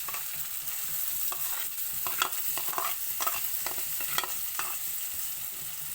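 Onions sizzling and frying in a pan, a steady close hiss with scattered crackles and the scrape of stirring throughout.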